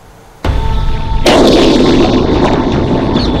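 A bomb blast goes off at a crowded political rally, a sudden heavy boom that swells into a loud, sustained roar and rumble lasting several seconds, with no voices.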